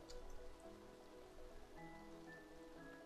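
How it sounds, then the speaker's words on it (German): Rain falls in the farming video game Staxel, a soft, steady patter of drops that stays faint throughout, with sustained musical tones from the game ringing over it. "Es regnet, das ist für mich, finde ich, gut."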